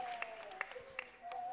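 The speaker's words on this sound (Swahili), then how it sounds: "Jipigie makofi ya furaha na vigeregere." A church congregation claps for joy, a few sharp claps scattered at a faint, distant level over a sustained tonal voice in the background.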